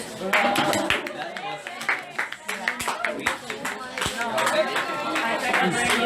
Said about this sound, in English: a round of applause for the 2 teams